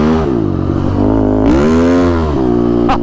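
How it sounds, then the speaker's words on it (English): An adaptive ATV built for an amputee veteran, its engine lugging slightly under a heavy load, gives a steady, close, loud low droning rumble that dips and swells in pitch without a break. "So the engine lugs just a little bit"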